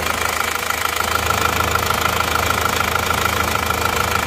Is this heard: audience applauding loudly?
no